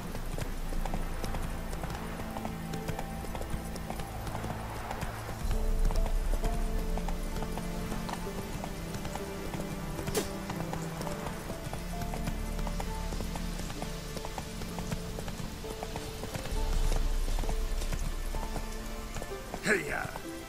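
Horse hooves clip-clop at a steady gallop from Roach, the horse in The Witcher 3: Wild Hunt, over continuous game music and ambience, with someone talking over it.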